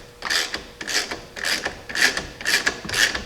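A ratchet wrench clicks in quick repeated bursts, about six strokes, while snugging an 11/16 bolt and nut, close up and fairly loud with no talking.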